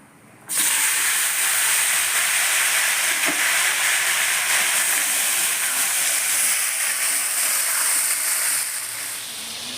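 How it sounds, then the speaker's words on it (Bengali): Eggplant and potato pieces hit hot oil for a fish curry, setting off a sudden, loud, steady hissing sizzle that carries on without a break. "এবার আমি মাছের জন্য যে বেগুন আর আলু কেটে রেখেছি, এই সবজিগুলোকে তেলের মধ্যে দিয়ে দেবো।"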